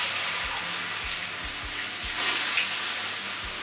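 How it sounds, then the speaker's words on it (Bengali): Banana flower dhoka cakes fry in hot mustard oil in a wok, giving a steady, dense sizzle with a few soft low bumps as the pieces settle. "একটা করে আমি ধোকাগুলো ছেড়ে দেব।"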